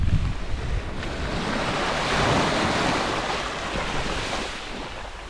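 Atlantic Ocean surf washes steadily along a Nova Scotia shoreline where a touring bicycle's wheel is dipped in, a continuous broadband rush of breaking water with gusty wind noise on the microphone and no voices.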